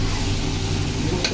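Fish fries in a pan with fenugreek seeds, a dense close crackling sizzle that holds steady throughout the brief moment.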